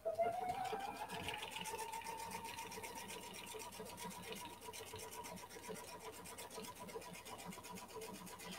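A sewing machine runs steadily as it stitches a decorative single stitch, giving a continuous fast mechanical whir with a rapid even pulse that holds for several seconds at moderate volume.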